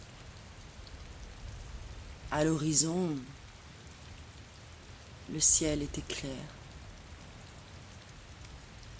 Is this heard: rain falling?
yes